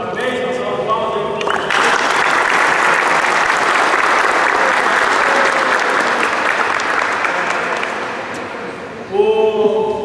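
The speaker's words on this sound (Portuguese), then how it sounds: "uma salva de palmas aí" Loud, sustained applause from an audience at a school contest results ceremony, honoring a professor; the clapping swells over about seven seconds, then fades as a voice resumes speaking near the end.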